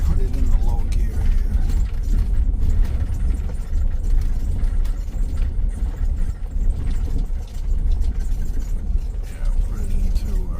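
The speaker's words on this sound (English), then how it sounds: "All downhill. I put it in the low gear here." A car engine pulls in low gear while rolling downhill on a dirt traverse route, a steady low rumble with mechanical clatter running throughout, close and fairly loud with no breaks.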